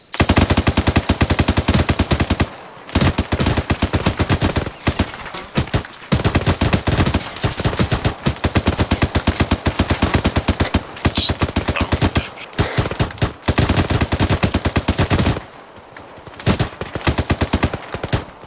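Sustained automatic weapon fire during an ambush in ArmA 3, loud, dense bursts of gunshots rattling almost continuously, with a few brief pauses between volleys and no talking.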